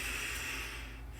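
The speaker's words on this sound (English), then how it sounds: "I want to kick my dog because he's snoring" A dog snoring with a steady, low, breathy rasp that runs continuously and stays soft and close throughout.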